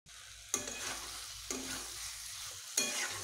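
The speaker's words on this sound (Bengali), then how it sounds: "নুন মিশিয়ে ভালোভাবে কষিয়ে নেব" Food being stirred and sautéed in a hot pan after salt goes in: soft continuous sizzling with three sharp scraping stirs spaced about a second apart, fairly quiet and close, with no talking.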